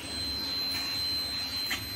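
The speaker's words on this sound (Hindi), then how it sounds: "साउंड आ रहा होगा, इसके अंदर बजर का प्रॉब्लम है" A faulty buzzer inside a Bosch refrigerator gives a thin, steady high-pitched whine that holds for the full two seconds over a low background hum, fairly close, with no talking.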